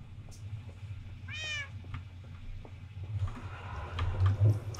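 A Minecraft cat gives a single clear, rising-and-falling meow over a low game background hum, followed by faint scattered ambient sounds.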